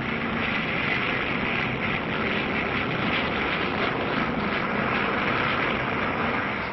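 Steady, loud droning roar of WWII fighter aircraft engines, a continuous propeller-plane rumble with no breaks, heard over Italy in 1943-44 as the planes begin an attack run.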